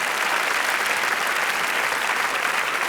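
A theatre audience at a Paris comedy show applauds, dense and even clapping sustained at a constant loud level from start to finish.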